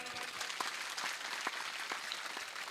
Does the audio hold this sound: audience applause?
yes